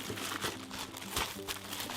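A plastic vacuum-sealing bag for sous vide cooking crinkles and rustles continuously in the hands, close and fairly loud, with small crackly bursts throughout.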